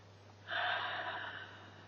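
A single deep, close breath during a guided breathing and self-touch practice, rising as a soft, airy rush and fading over about a second against a low steady hum.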